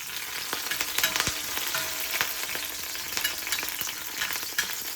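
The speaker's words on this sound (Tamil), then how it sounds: "இப்போ கருவேப்பிலையை தெரிக்கும், கவனமாக போடுங்க." Curry leaves splutter and crackle in hot oil on a dosa pan, a dense, loud sizzle with sharp pops scattered throughout and no voices.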